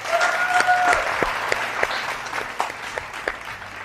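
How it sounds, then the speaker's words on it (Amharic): A studio audience at a children's TV competition show claps for a young contestant: a brisk burst of many hands that gradually thins into scattered individual claps over a few seconds. "አጨብጭቡላት እንዴ"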